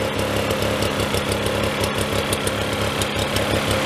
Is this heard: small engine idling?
yes